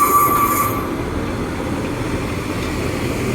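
A Class 144 diesel train departs Sheffield station, its low rumbling engine and rolling wheels close and steady, with a brief high squeal at the start.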